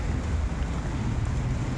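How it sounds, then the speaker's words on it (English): Steady rain falls, a dense continuous hiss and patter heard close by and fairly loud, with no voices over it. "Raining and raining and raining and raining."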